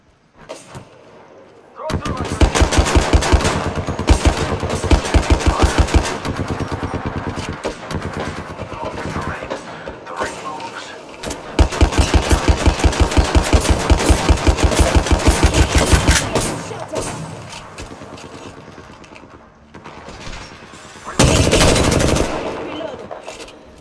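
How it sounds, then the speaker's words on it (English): Sustained bursts of automatic gunfire from weapons in the battle royale shooter Apex Legends, loud and rapid, in several long volleys with short pauses between, ending in a final dense burst, with voices talking at times. "Opening fire."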